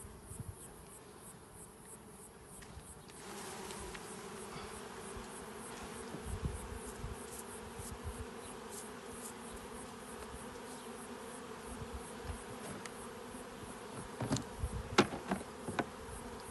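Honey bees hum around a full hive in Danışment, Ayrabolu, Tekirdağ, a steady dense drone near and fairly faint, with individual bees buzzing closer past the ear now and then.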